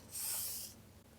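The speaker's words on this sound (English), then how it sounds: "I'm going to spray my palette here." A spray bottle mists water onto a paint palette in one short, soft hiss of about half a second, heard close and alone in a quiet room.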